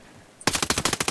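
Enemy automatic gunfire in the video game Ghost Recon Breakpoint bursts in after a brief quiet, a rapid, loud string of about ten evenly spaced shots.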